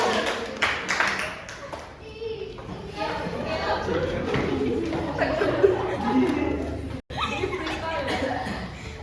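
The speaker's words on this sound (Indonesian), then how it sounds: "Tepuk tangan buat kelompok 1." Classmates in a school classroom give a round of applause for group 1, a short burst of scattered claps mixed with chatter, chuckles and a teacher talking over it.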